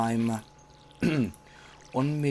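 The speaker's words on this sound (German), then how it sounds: "da können wir auch wieder schön in der Spirale gießen" Watering crops with a watering can in the video game Stardew Valley: three short pouring splashes at about one-second intervals, each with a rising gurgle, under a quiet steady hum.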